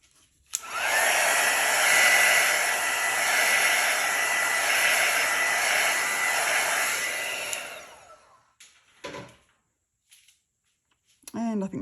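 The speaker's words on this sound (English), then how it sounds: "I'll just use my heat tool one more time." A heat tool blasts hot air over acrylic pour paint as a steady, loud, close whoosh lasting about seven seconds, then switches off, leaving short bumps and a brief voice at the end.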